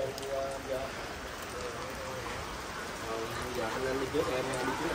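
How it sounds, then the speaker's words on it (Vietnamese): Rain falls steadily outdoors in a soft, continuous patter of drops on surfaces, moderately loud and close, while people talk intermittently over it. "Rồi trời mưa cả nhà ơi."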